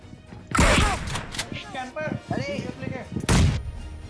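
A teammate's grenade blast in a battle-royale shooter match, booming loud and broadband twice, once early and once near the end, with a chattering, excited voice talking over the gunfight between the bursts.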